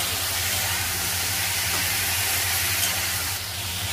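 Malabar spinach stems and mixed vegetables frying in hot oil give a loud, steady hiss and sizzle that holds unbroken throughout, close and without any talk.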